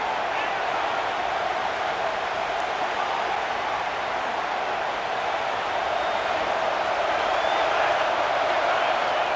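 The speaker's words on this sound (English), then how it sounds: "The Tide crowd rolling noise down onto Saban Field on 3rd down." In a college football video game, the Alabama Crimson Tide home crowd at Saban Field roars on third down with a loud, continuous wall of noise that holds steady the whole time.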